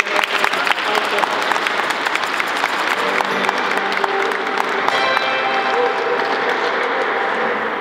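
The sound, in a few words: audience applauding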